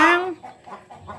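A hen clucks right after laying an egg, opening with one loud rising squawk and then a run of softer, steady clucks close by.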